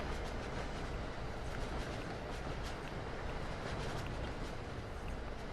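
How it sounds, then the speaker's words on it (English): An AI-driven train passes in Train Sim World 2 on the Boston Sprinter route, a continuous rumbling roar of rolling wheels and engine noise, moderately loud and steady with faint rhythmic clicks. "here comes a train"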